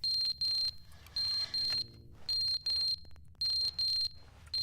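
An alarm in The Stanley Parable beeps in pairs of sharp, high electronic tones, one pair after another at a steady pace. It is loud and close, with no talk over it.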